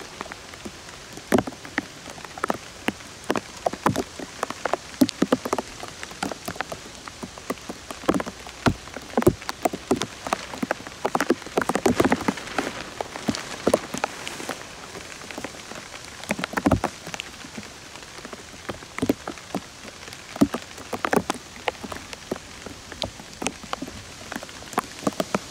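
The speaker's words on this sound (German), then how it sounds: "es fängt auch wieder ganz leicht an zu tröpfeln" Light rain patters on a tarp roof above a campfire, scattered drops ticking irregularly and close by for the whole stretch, steady and moderately loud with no voices.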